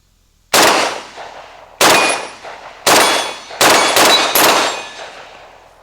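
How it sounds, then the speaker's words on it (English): Five gunshots ring off an 8-inch steel gong about 40 yards away at a shooting range, each a loud sharp metallic clang with a long ringing decay, spaced about a second apart, the last few coming quicker. "And I'm hitting my 8-inch gong, no problem."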